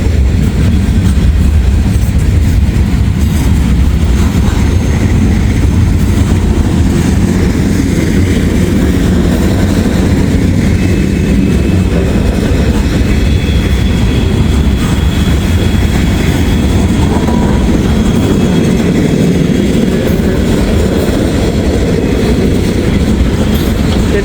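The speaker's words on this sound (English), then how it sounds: "This is a long train." A long train rolls steadily past at close range, a continuous loud rumble of railcars with faint clickety-clack from the wheels, sustained throughout with no voices.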